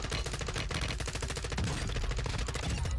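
Rapid automatic M4 rifle fire in Warzone 2 on Ashika Island, loud, sustained and close, with overlapping bursts and no voices.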